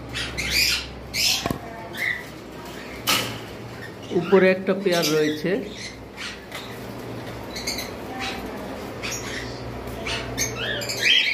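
Cockatiels and lovebirds squawk and chirp in a bird shop, with a louder burst of rapid calling in the middle and scattered calls throughout, under steady nearby talking in Bengali.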